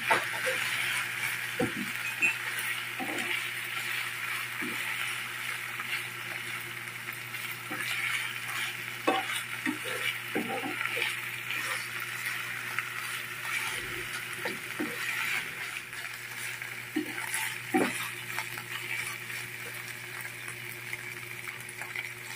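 Food sizzles steadily in a hot pan with grilled tilapia added, metal clinks and stirring scrapes scattered throughout, no talking.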